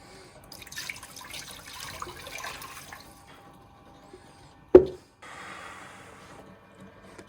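Tumble-polished amazonite stones are rinsed in water, heard as a soft, close trickle and splash that pause, followed by one sharp knock and then a quieter running-water sound.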